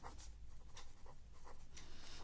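Pen scratching out a handwritten answer on paper during a Telugu language lesson, soft intermittent strokes in short bursts, close and quiet.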